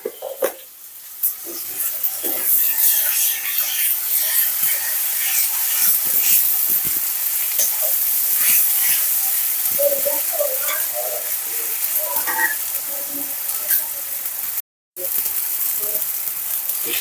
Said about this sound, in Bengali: এই যে মশলা দিয়ে দিলাম আদা রসুন বাটা